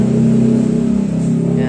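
A car engine with a misfire, likely from a wet cylinder number 3, runs close and loud, holding a steady, rough, humming note throughout.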